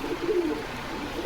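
Pigeons being sold at a market in Rajshahi, Bangladesh, give a soft, close, low cooing throughout the short stretch, with no talk over it.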